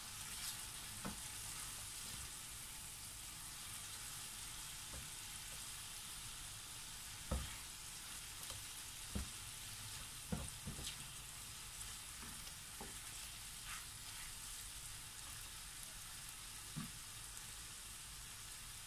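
Chicken afritada sizzling in a pan as it is stirred, a steady frying hiss with occasional soft clicks and scrapes of the utensil.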